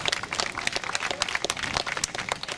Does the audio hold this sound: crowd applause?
yes